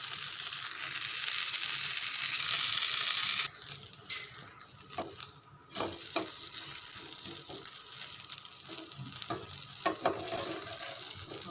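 Ragi rava dosa frying on a pan with oil, a steady soft sizzle with occasional scraping and clinking sounds of a spatula.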